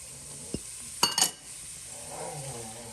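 Green pepper dropped into a butter-filled pan, a couple of quick clattering utensil knocks over a low continuous sizzle that keeps hissing softly afterward.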